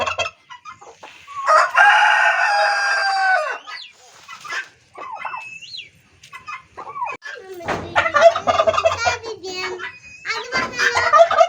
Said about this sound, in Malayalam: നിങ്ങൾ കണ്ടു കോഴികളെയൊക്കെ.